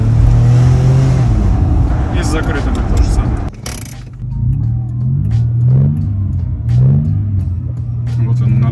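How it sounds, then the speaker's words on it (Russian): Exhaust of a Mitsubishi Pajero 3.0 fitted with a sport resonator and muffler can, giving a loud, deep, rumbling drone with repeated rising revs, while someone speaks over it. "мы сюда поставили спортивный резонатор для того, чтобы он смягчал слишком орущий выхлоп"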